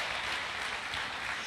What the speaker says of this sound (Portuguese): Dê um aplauso a Jesus, amado, em toda a sua família.